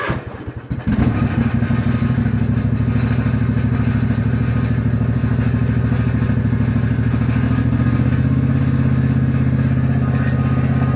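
Husqvarna 254 ZeroTurn mower engine, a machine recovered from a creek bed, cranking briefly then catching and settling into a loud, steady close idle with a slight rise in pitch near the end.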